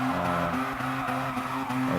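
A car drifts in Gran Turismo Sport, its engine droning steadily with a sustained tire squeal running through the whole stretch, loud and close as heard from the bonnet view.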